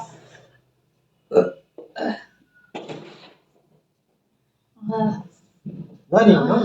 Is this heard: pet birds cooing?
no